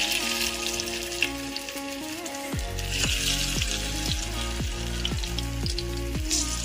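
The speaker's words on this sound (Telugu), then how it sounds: "ఇప్పుడు ఆయిల్ హీట్ అయిన తర్వాత ఆ ఆయిల్లో మనం ఫిష్ని యాడ్ చేసుకుందాం" Fish fries in hot oil with a steady, bright sizzle and crackle, continuous and close, with a low rhythmic tonal hum running beneath it.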